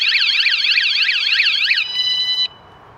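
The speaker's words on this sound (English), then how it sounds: "I'm just going to press the alarm button so it makes a big racket, and then I'll quickly turn it off." A Vanguardian motorhome alarm siren blares loudly and close for nearly two seconds in a fast warbling sweep, then switches to a steady high tone that cuts off abruptly.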